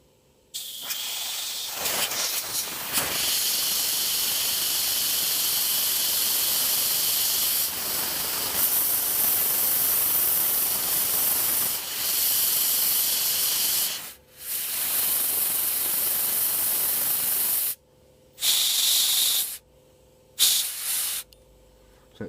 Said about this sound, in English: take your tank and you just want to squirt a tiny bit of black on the hole